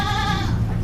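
A Jrabang goat on a farm in Tulungagung gives one loud, close, wavering bleat that fades quickly.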